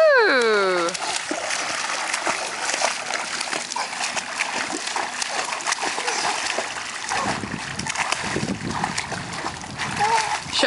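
A 3.5-year-old child splashing while swimming on the back in water during summer, continuous splashing and sloshing close by, with voices and a brief high whine at the start.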